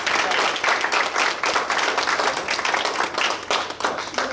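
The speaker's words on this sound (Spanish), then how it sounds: "Vamos a darle un fuerte aplauso" Applause at a birthday celebration, with a crowd clapping steadily and densely throughout, fairly close and loud, with no clear talking over it.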